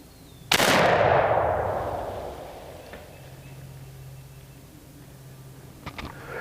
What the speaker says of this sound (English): at this distance I'm shooting a little bit low, but it hit the target